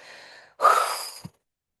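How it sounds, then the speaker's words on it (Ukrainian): A single forceful exhale of breath, loud and close, rushing out for about half a second and ending with a short puff. "І видихаємо сильно, потужно"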